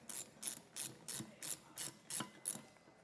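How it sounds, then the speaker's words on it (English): A hand ratchet clicks in eight evenly spaced bursts, tightening 7/32 Allen head bolts on a Pacbrake Alpha HD rear air bag suspension kit for a 2025 GMC, each crisp ratcheting stroke close and fairly quiet. "So I'll tighten and torque these down."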